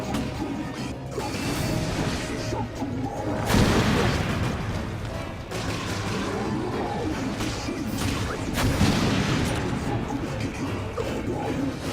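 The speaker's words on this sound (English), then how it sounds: "Let's see if the rocket launcher will do anything now." A rocket launcher fires and explodes during a boss fight in the video game Resident Evil: Revelations, with two heavy crashing blasts a few seconds apart over a busy, rumbling game background.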